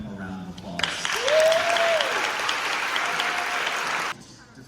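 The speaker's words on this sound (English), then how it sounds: "If y'all can give them a round of applause." An audience at a university event breaks into applause that swells quickly, holds steady for about three seconds, then cuts off, with a voice speaking briefly over the clapping.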